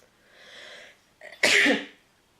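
A single close sneeze from one person, a soft inhaling build-up followed by a sharp, loud burst that trails off quickly, alone without talk.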